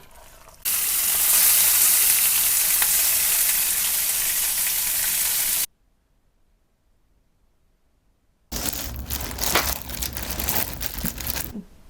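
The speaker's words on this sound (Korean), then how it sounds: "우리는 오늘 삼겹살 구워서 먹자" Pork belly sizzles loudly and steadily on a grill for several seconds, then silence, then a rougher, crackling sizzle with sputtering pops resumes up close.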